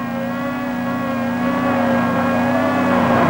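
The Flinders University electric commuter car Investigator I drives with a steady, continuous motor whine and road hum, rising slightly in loudness over a few seconds, heard alone without voices.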